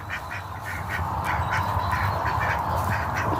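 Purebred mallard ducks at a hatchery quack repeatedly in a steady, rhythmic series of nasal calls, close and fairly loud, with no talking.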